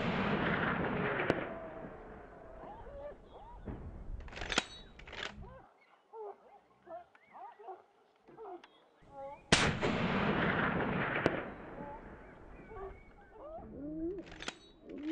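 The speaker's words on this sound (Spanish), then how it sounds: "el montero ha necesitado dos tiros para dejarlo en el sitio." Several loud, sharp hunting rifle shots at a Spanish montería crack out at intervals, each echoing across open country, with quieter rustling and faint sounds between them.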